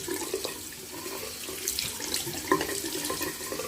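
Hot water runs from a hotel tap in Volgograd in a continuous, close stream that splashes into a basin, with small shifts in the flow and no talking.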